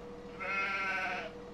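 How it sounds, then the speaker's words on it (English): A single sheep bleat from the video game Farming Simulator 17, one clear sustained call lasting about a second, fairly close and standing alone with no talk over it. "Oh, we have floating sheep, apparently."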